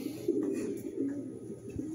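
A racing pigeon coos softly and steadily inside a loft at a one-loft race, a low continuous throaty murmur heard fairly close but faint.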